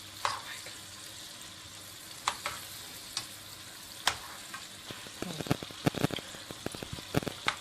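A pot of food with a can of Coke bubbles and sizzles on medium heat after stirring, scattered pops and crackles close by, growing busier toward the end, with no voices.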